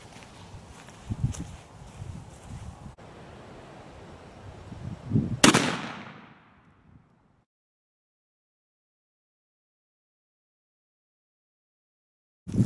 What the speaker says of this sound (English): Lyman Plains pistol shot number 4 coming up